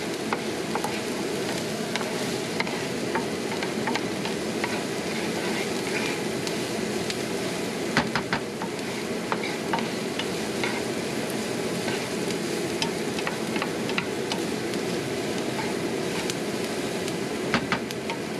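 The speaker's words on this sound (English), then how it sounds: "yeah, just wanna sweat the onions a bit" Onions sweat in a pan for a tostada and refried-bean meal, giving a steady, close sizzle and crackle with occasional small pops and faint utensil clicks, no one speaking.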